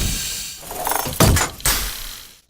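Mechanical landing gear of a sci-fi dropship, built from exosuit mechanical effects: a hissing, whirring actuation with two sharp clunking engagements midway, loud and close, then cutting off to silence.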